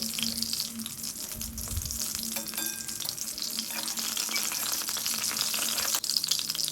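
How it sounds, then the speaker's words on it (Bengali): Steady crackling sizzle of fish frying in hot oil, loud and continuous throughout, with occasional clinks of a utensil. "আমি রান্নাটা ওই মাছ ভাজার তেলের মধ্যেই করব"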